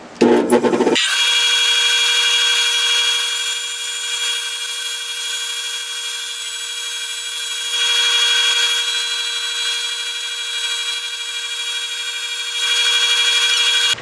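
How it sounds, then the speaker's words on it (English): A steady, loud whirring hum of a spinning lathe with sanding against wood, continuous throughout with slight swells in intensity. "All I'm going to do is some sanding on the outside here."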